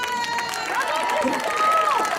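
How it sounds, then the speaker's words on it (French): An audience at an evening event in Pluneret claps and cheers for a couple at the close of a show, a steady wash of applause with music and voices mixed in. "merci d'applaudir Mélissa et Tanguy"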